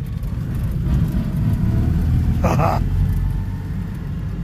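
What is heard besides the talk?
Citroen 2CV engine while driving and shifting gears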